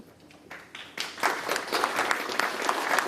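An audience at a Tuskegee Morehouse Classic media day event applauds, the clapping starting sparse and swelling into a sustained, dense round of applause.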